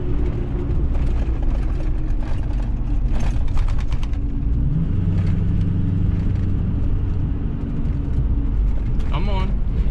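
A Ford F450 pickup towing a trailer, with a steady, loud low engine rumble and road noise throughout and a shift in engine tone midway.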